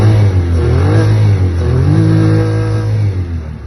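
The engine of a GT30 runs close and loud with a steady low drone, its pitch rising and falling slightly as it revs, with no voices.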